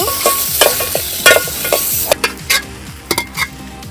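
Tomatoes fry in hot oil with a bright, continuous sizzle for village-style drumstick leaf curry, as a spatula scrapes and clinks against the pan in quick irregular strokes, close up.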